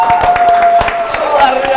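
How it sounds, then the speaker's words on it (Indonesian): Studio audience clapping at a quiz game show, a dense steady patter of many hands throughout with some cheering mixed in and voices over it. "tepuk tangan"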